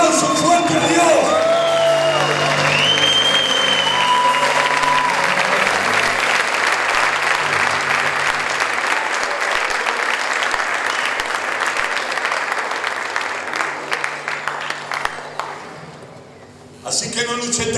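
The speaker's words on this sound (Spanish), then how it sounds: "Dale un aplauso fuerte a Dios." A church congregation bursts into loud sustained applause mixed with cheers and shouts, clapping steadily for over fifteen seconds before tapering off abruptly as a voice returns.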